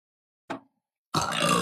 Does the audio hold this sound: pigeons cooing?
no